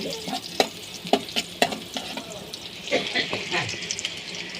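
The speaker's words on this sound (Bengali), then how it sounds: "পেঁয়াজটা ভাজা ভাজা হোক" Onions frying in a pan for a shapla-and-hilsa curry, a crackling sizzle broken by sharp scraping stirs at a brisk, uneven rhythm, close and moderately loud with faint watery sounds.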